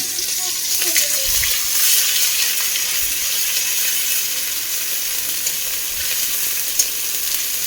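Onions fry in a pan with cumin seed tempering, giving a steady, loud hiss and sizzle throughout, plus a few faint clinks of stirring and no speech.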